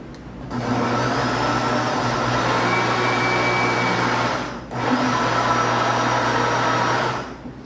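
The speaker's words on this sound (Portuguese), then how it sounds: "Eu vou dar uma batidinha ali no liquidificador." A blender mixing chocolate cake batter with flour whirs loudly in two steady bursts, the motor droning with a grinding texture, pausing briefly between them before stopping.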